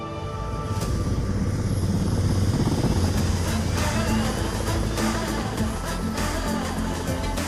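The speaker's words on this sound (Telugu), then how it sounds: "ఇది ఎవడో హెలికాప్టర్ వేసుకొచ్చాడు" A helicopter roars loud and close in a Telugu comedy film scene, its rotor and engine noise a continuous heavy drone that holds steady from start to finish.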